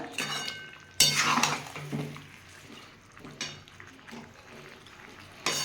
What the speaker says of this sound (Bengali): আমি এই অবস্থায় একটু শীতের সবজিগুলো সবগুলো দিয়ে কষিয়ে নেবো